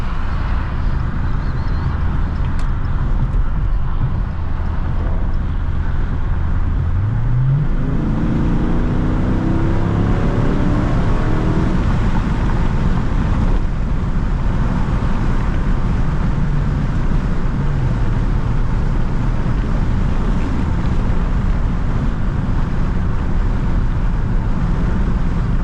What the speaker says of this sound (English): This is the stock exhaust, by the way, too